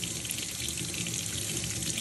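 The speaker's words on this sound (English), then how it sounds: "the water is flushing through" Water rushes steadily through a drink holder being cleaned, a loud continuous tap-like flow with no breaks and no talking.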